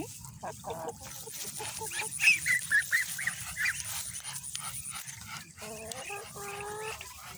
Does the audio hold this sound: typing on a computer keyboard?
no